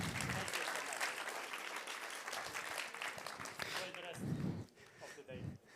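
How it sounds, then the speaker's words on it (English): Conference audience at an Amsterdam tech event breaks into applause for a speaker, a dense, sustained round of clapping that tapers off toward the end while voices come through over it. "One round of applause for Vitaly."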